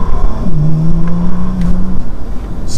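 A Bentley Continental GT in sport mode with its exhaust valve open gives a short engine rev, a loud, close rising tone that holds steady, then settles back into a deep rumble.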